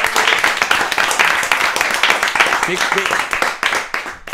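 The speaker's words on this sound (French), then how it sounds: "Faut vous applaudir. Bravo les gars." A group claps steadily in dense applause, with voices mixed in beneath the clapping.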